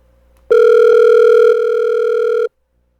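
A telephone dial tone heard while redialing a call that had cut off: one steady, loud, buzzy tone that starts abruptly, holds for about two seconds and stops, with no voices.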